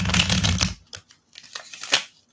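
A deck of oracle cards is shuffled in a quick, dense riffle of papery flutter, followed by a few soft, scattered card taps and slides.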